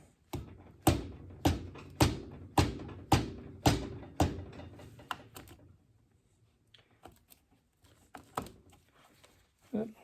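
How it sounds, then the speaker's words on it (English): A piston being tapped into its cylinder with the rubber end of a small ball peen hammer during assembly of a Curtis air compressor, with a ring compressor tightened around it: a rapid series of about eight sharp, close knocks, then sparse quieter taps. "I'm going to use the rubber end of my little ball peen here and tap that piston in."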